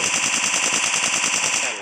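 Rapid automatic gunfire from a weapon in the mobile battle royale game PUBG Mobile, a steady burst of loud, evenly spaced shots running nearly two seconds before tapering off.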